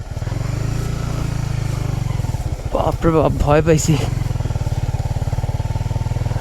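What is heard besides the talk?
motorcycle struggling up slippery mud hill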